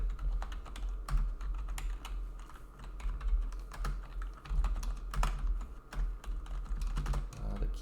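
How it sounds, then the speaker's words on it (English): Computer keyboard keys clatter in a steady, fast run of close clicks with brief pauses, nobody speaking, during work on a config file path in an NFT-generating tool. "The keyboard."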